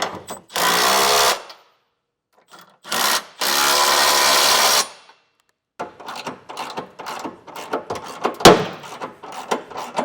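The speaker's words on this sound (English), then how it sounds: "Now with a 19mm socket, we'll just snug all of our hardware down." Hardware on a Class III trailer hitch being snugged down with a 19mm socket on a 2020 Dodge Journey: two long whirring bursts from a powered ratchet or driver, then scattered clanks, clicks and one sharp metallic knock close by.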